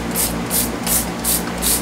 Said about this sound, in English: really spray the distilled water in those